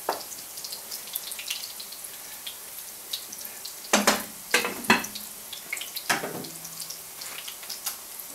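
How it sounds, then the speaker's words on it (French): Tomato sauce thinned with a little added water simmers in a pan, giving soft bubbling and gentle sizzling with scattered pops, plus a few louder clattering bursts of stirring or splashing midway, and no talk. "Ici, j'ai la sauce tomate qui est en train de mijoter."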